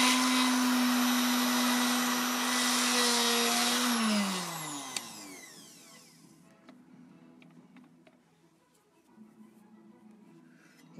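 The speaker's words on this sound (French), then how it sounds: "Et ensuite, il n'y a plus qu'à percer." A small drill bores a 0.8 mm hole in black pearl jewelry, a loud high whine that holds steady, then winds down with a falling pitch as the motor stops, followed by faint handling noises.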